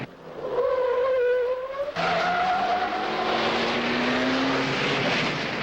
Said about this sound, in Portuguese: Agora curva do cotovelo, bem de baixa velocidade, curva em primeira com Fórmula 1